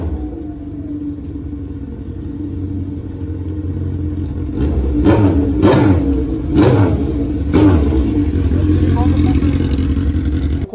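A Honda Hornet motorcycle idles with a steady low rumble, then blips its throttle in several sharp revs around the middle of the stretch before settling back, with people talking faintly nearby.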